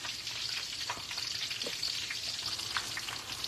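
Shrimp egg foo young patties fry in oil, giving a steady, fairly soft bubbling sizzle with scattered crackles and pops throughout and no talk.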